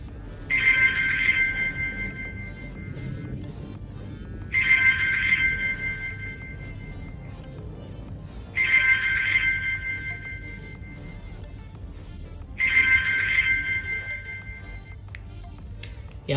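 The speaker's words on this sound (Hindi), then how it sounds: "अलार्म एक्यूरेट वर्क कर रहा है और इसका साउंड भी आ रहा है, वाइब्रेट भी कर रहा है।" A KW19 Max smartwatch alarm sounds in four evenly spaced bursts about four seconds apart, each a bright electronic beeping tone, fairly faint over a low background hum.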